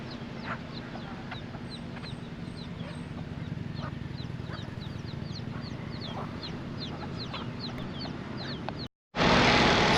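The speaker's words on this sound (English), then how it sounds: "actually getting attacked by a chicken" A chicken in Key West clucks and squawks repeatedly at close range, sharp agitated calls scattered over a constant outdoor background, with no talking.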